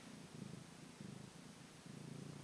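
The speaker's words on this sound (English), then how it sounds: "He is purring like a motor." A male cat purrs loudly and steadily up close, a rumbling purr that pulses in a regular rhythm of breaths without pause.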